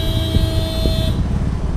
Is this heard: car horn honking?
yes